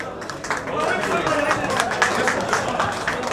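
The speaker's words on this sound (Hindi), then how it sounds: "जोरदार ताली बजनी चाहिए" A crowd applauding at a Bhojpuri film launch event, dense continuous clapping with a spoken voice and crowd murmur running over it.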